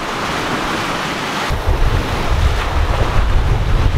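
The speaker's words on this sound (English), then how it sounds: "We've got about 25 knots of wind now, gusting a bit higher." Loud wind roars across the microphone aboard a sailboat in about 25 knots of wind on a rough Caribbean Sea crossing to Panama, with ocean waves surging and crashing in a heavier wash midway through.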